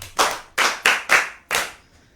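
Children applaud with five separate bursts of hand claps at a slightly uneven pace, each sharp and close, with no talking in between, during a Yoruba children's programme.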